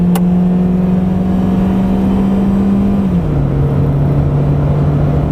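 A Ford Fiesta 1.4 Titanium automatic hatchback on winter tyres cruising at highway speed, its engine a steady loud drone over road rumble, the pitch stepping down once partway through like a gear change.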